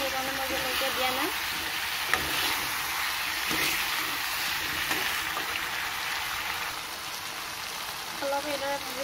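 Pork fries in a pan with a constant, rain-like sizzle, close and steady, as a voice speaks briefly at the start and end.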